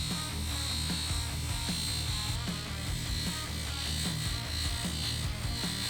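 A buffing or flap wheel polishes a metal part, giving a continuous steady whirring drone with a faint rhythmic pulse, close and unbroken throughout.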